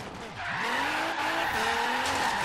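Tires squeal hard under braking in Forza Horizon 3 on a slammed JDM Nissan 240SX drift build. A loud, continuous skid with wavering pitch rides over engine noise throughout.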